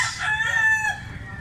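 A young rooster, a stag, gives one short, loud crow close by, its rising-and-falling call clear over a quiet background.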